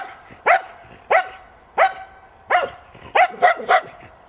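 A dog barks during a temperament test in Vantaa, giving seven sharp, loud barks at irregular intervals, the last few bunched close together.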